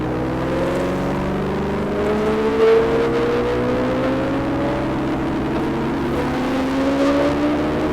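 A loud Suzuki GXR motorbike engine drones and revs continuously on a road ride, pitch rising and falling as it accelerates, with no talking.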